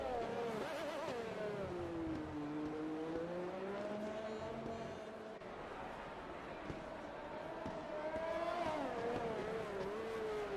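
An F1 race car engine in F1 2020 at the Singapore GP whines steadily at high pitch, rising and falling with the revs through corners, with commentators talking over it.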